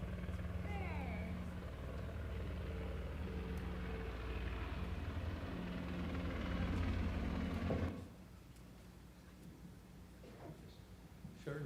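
A helicopter drones in the distance with a low, steady rotor rumble, then fades sharply toward the end, leaving only faint background noise.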